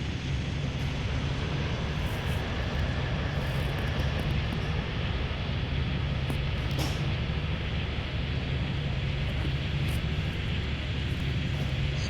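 A jet airliner taking off from runway 15 at Chicago O'Hare International Airport, its engine roar a loud, steady, broadband rumble that fills the whole span without a break, with no talk over it.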